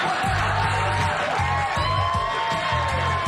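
A crowd whoops and cheers loudly and continuously for a fighter stripping on stage during The Ultimate Fighter season 23, over steady thumping music with a repeating low beat.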